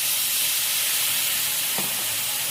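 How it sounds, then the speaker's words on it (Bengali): A cup of water is poured into a frying spiced masala for parshe fish, releasing a loud, steady steaming hiss that fills the whole moment close up, with no voices. "এবার 1 কাপ জল দিয়ে দেবো এর মধ্যে"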